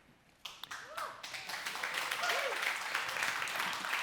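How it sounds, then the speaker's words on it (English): Audience applause in a panel discussion on stablecoins and digital money: a broad, steady wash of many hands clapping that swells in after a brief quiet start and holds, with a few faint voices mixed in. "in spite of the applause"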